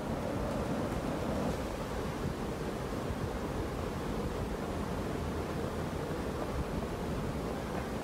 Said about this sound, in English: You can hear the beautiful waves down below